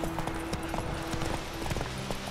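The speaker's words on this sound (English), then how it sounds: "I need to steer now. Turn around, Roach." Hooves of the horse Roach clip-clop in The Witcher 3, a quick, fairly faint run of footfalls with a brief tonal game sound layered underneath.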